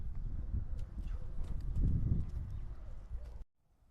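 A horse, one of several being sold, is led out with a run of close, uneven hoof clip-clops on hard ground, which cut off abruptly near the end.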